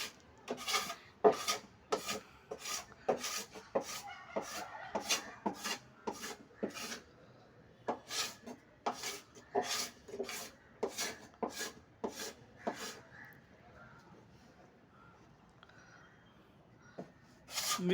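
Teak wood being hand-shaved with a blade before polishing, heard as a series of crisp, evenly spaced scraping strokes up close, about twenty in a row with a short pause partway, over a quiet background.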